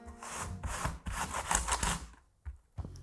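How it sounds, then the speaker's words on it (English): An apple grated on a handheld grater: about two seconds of steady, close rasping strokes, followed by a few short scrapes. "we're gonna take an apple and we're gonna grate it as well"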